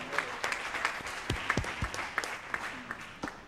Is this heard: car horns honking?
no